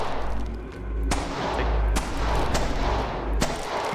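Gunfire in the indie game In Bloom: several heavy, booming shots with deep low thuds, a few sharp cracks spaced irregularly over a dense rumbling background.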